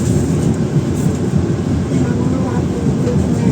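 A Majapahit economy-class train rolling straight through Jatinegara station in Indonesia without stopping, a loud continuous rumble and rattle heard from inside the carriage for the whole stretch.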